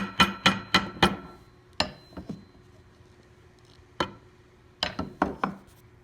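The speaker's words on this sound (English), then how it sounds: "I come back and I tap it with my hammer" Sharp metallic hammer taps in quick clusters of three or four, with pauses between, close up and crisp against a quiet background, as frets are tapped into a hollowbody guitar neck.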